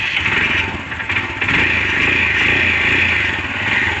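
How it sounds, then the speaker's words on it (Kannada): Royal Enfield Himalayan motorcycle starting and idling in neutral, a steady loud close engine rumble with a slight waver and no voices over it. "ನ್ಯೂಟ್ರಲ್ಲಿ ಗಾಡಿ ಸ್ಟಾರ್ಟ್ ಮಾಡ್ತಾ ಇದ್ದೀನಿ."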